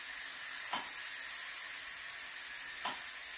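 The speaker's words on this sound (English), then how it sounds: "Pressure release." Steam vents from an Instant Pot pressure release while making broccoli cheddar soup, a steady close broadband hiss with two brief sharper spurts.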